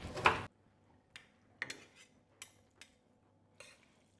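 Utensils clink against plates while carbonara pasta is served in a home kitchen, one loud scraping clatter at the start and then several short, sparse clinks and taps in a quiet room.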